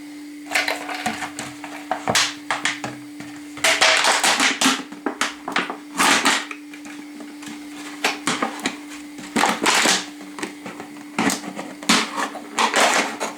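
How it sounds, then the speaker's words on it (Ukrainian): A 3-litre plastic bottle is cut into slices, producing repeated sharp crunching and snapping bursts in irregular clusters over a steady background hum, close and fairly loud. "беремо таку 3 трьохлітрову пляшку і нарізаємо її на скибочки"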